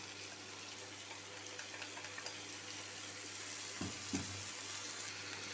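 Soft, steady hiss of water sizzling in a hot frying pan with boiled beetroot, close and quiet, with a couple of faint pops near the end.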